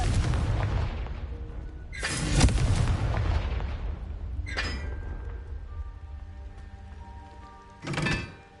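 Repeated fiery blasts from the Confringo explosion spell in a Harry Potter video game: several heavy booms spaced a few seconds apart over a constant low rumble, each with a sharp broadband burst and lingering crackle, no talking.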